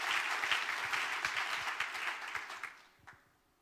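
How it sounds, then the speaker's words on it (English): Warm applause from a conference audience at the European Communication Summit 2012 welcoming a speaker, a full wash of clapping that holds steady before thinning out and fading near the end. "Please join us in giving a warm round of applause to Rainer Nölvak."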